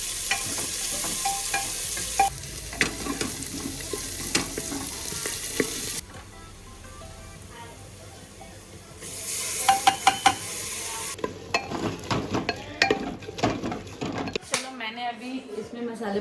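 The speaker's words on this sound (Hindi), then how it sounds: "थोड़ा मैंने तेल डाला है इसमें, पूरे में इसको अच्छे से फैला दूँगी कुकर में" Oil sizzles and fries in a pressure cooker for matar pulao, with stirring and scraping throughout. The frying hiss is loud and close and comes in distinct stretches, broken by pauses and clanks.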